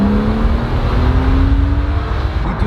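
BMW M Roadster engine heard from inside while driving, a smooth, steady drone with a slowly rising tone, loud and continuous with no talk.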